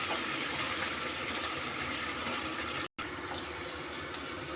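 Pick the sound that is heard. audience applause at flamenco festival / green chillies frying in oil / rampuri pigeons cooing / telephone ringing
green chillies frying in oil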